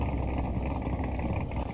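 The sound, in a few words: V12 car engine, video game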